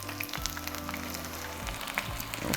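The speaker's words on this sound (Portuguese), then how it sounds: "Esse daqui frita um pouquinho mais rápido, porque os legumes estão um pouquinho menores." Vegetable tempura fries in hot oil with a dense, continuous sizzle and crackle, close and steady, with a few faint clinks of a utensil against the pot.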